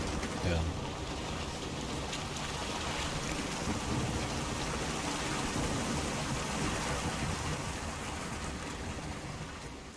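Heavy rain pours in a stormy scene from The Witcher 3 video game, a constant dense hiss with low rumbling thunder underneath, steady and enveloping throughout.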